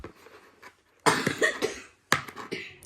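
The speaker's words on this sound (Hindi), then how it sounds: "खांसी हो गई है, खौं खौं कर रहा है जब से" A person coughs in two harsh bursts, each a short cluster of rough, close barks separated by a brief silence, with softer throat noises before them.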